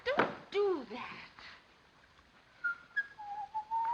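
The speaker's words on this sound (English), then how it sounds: "Oh, do stop whistling." Someone whistles a few short rising and falling notes in a 1935 British film scene, fairly close, with a pause and then a thinner, quieter whistled line, no words spoken.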